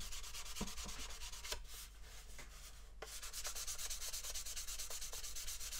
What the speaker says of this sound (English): I just use a bit of micro mesh. This is 4000 grade micro mesh